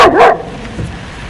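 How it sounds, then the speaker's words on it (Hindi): A single loud, close dog bark rings out at the start, followed by a faint softer huff and quiet room tone. "अगर ये कुत्ता भौंकेगा तो मैं इस पर चिल्लाऊंगा।"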